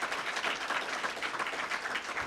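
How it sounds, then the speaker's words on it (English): Crowd applause at a press conference announcing a career development center, a continuous, even wash of clapping heard from a moderate distance with no voices over it. "Would you honor him with applause right"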